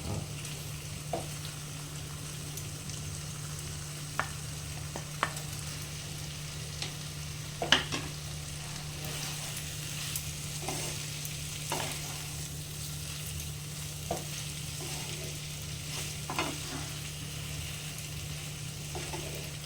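Pointed gourd (potol) and potatoes frying in a pan for a thick gravy curry: a steady, even sizzle runs throughout, with occasional soft clicks and scrapes of stirring, and no talking.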